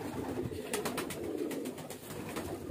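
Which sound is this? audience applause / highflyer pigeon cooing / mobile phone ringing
highflyer pigeon cooing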